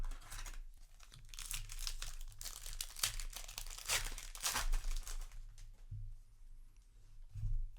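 Foil wrapper of a Magic: The Gathering Modern Horizons 3 booster pack tearing and crinkling open, a few seconds of loud, close crackling bursts, fading toward the end with a low hum beneath.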